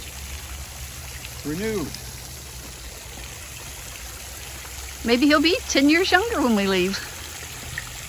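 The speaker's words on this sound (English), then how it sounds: "This must be some of that spring water because it's kind of splashing on me" Spring water splashes and trickles steadily in the background while a person talks in short bursts.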